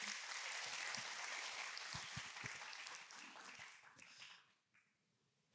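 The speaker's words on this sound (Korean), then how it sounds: "우리 하나님께 영광의 박수 올려드리겠습니다." Worshippers at a church summer retreat applaud, a fairly quiet wash of many hands clapping that holds steady for about four seconds, then quickly dies away into near silence.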